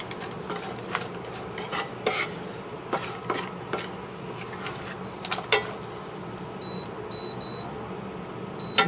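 Pork belly stir-fried with chili, salt and seasoning in a pan, irregular spatula scrapes and clacks over a soft sizzle, with a few short electronic beeps near the end; no talking.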